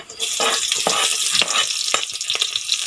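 Garlic and onion hit hot cooking oil, giving a loud, crackling sizzle with bursts of spattering and stirring as the sauté gets underway.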